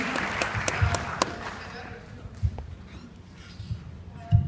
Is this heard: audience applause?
yes